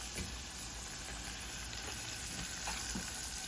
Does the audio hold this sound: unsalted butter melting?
yes